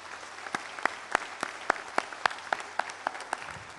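Audience applause at a public event with the Amuzgo community in Xochistlahuaca, Guerrero, heard as sharp, regularly spaced claps standing alone, steady across the short stretch.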